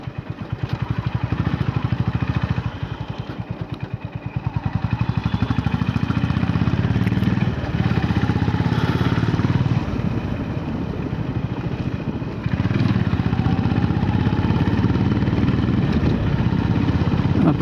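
A motorcycle engine runs steadily and loud throughout while riding out of a parking area on an office commute, its low rumble constant with wind noise layered over it.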